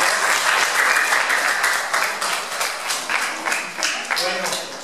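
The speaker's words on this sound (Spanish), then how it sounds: "Fuertes aplausos a los señores." Strong applause at an exhibition held in a former convent, San Miguel Arcángel in Tilapa, Puebla: dense crowd clapping that gradually thins out, with voices underneath.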